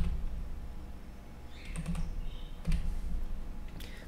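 Keys clack on a computer keyboard while text is entered into a PowerPoint organisational chart, with short bursts of clicks and a louder keystroke near the end, close and alone over a low steady background hum.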